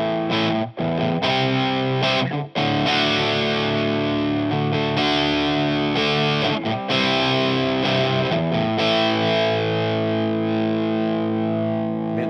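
Electric guitar played through a distortion effect with a chorus-like shimmer, sustained chords and notes ringing loud and continuous with a few brief breaks between strums.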